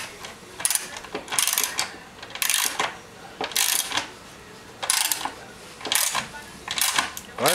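Parts being screwed together while a table is assembled, a series of repeated ratcheting, clicking bursts in an irregular rhythm, close and moderately loud.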